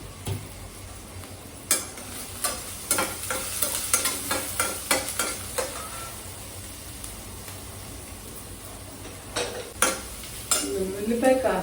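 Onions frying in a pan for a brinjal and dry green peas curry, steady soft sizzle with repeated scraping spoon strokes stirring in irregular bursts, close and clear.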